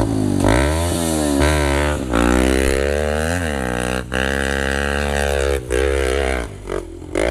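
A supermoto motorcycle labours up a steep hill, its engine note rising and falling through strong harmonic sweeps as the rider works the throttle, loud and close for the whole stretch, with brief dips between pulls.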